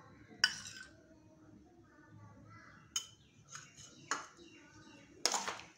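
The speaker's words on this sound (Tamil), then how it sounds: "எல்லாத்தையும் நல்லா கலந்து கொடுக்கலாங்க." Rusk laddu mixture of crushed rusk, jaggery, chopped cashews and ghee being stirred in a bowl, giving a few sharp clinks and scrapes of utensil against dish spaced through otherwise quiet, low room noise.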